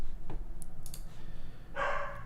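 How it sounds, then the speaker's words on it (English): In the background of a room, a dog lets out a few short, scattered barks and yips, then gives one fuller bark near the end. "apologies for the dog in the background, he's kind of barking a bit."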